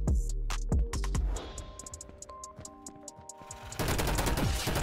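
A teammate fires in the Roblox shooter Energy Assault: loud rapid bursts of gunshots open the clip, sparser shots follow, and a dense volley returns at the end.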